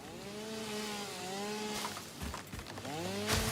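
A chainsaw in the video game Satisfactory revs up and down in a series of rising and falling whines, close and fairly loud, with brief cutting bursts between revs and no speech.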